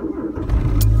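A car engine cranks and catches roughly, firing unevenly as it starts up close by in a brief, loud burst.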